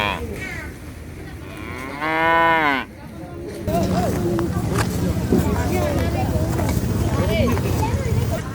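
Cattle raised by village households in Burai, South Sumatra, give a long, loud, close moo, surrounded by a steady outdoor rumble and a busy background with talk before and after.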